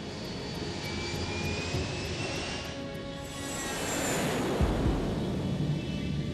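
A Boeing 747 airliner, JAL 123, flies over the mountains near Tokyo with a steady, droning engine roar that swells slightly partway through, heard alone with no voices.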